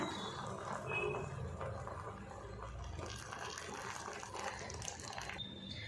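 Hot milk is poured gradually into semolina payasam in a home kitchen, a soft, faint liquid trickle and splash with light clinks of the pan or utensils.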